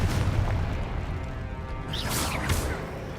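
The Confringo explosive spell cast in Hogwarts Legacy, a dense rumbling blast with whooshing streaks and crashing impacts layered over continuous game noise.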